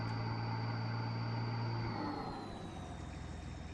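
A truck engine with an exhaust starting to blow at the silencer, in the Farming Simulator 19 game, drones steadily at a loud, even level and eases slightly toward the end.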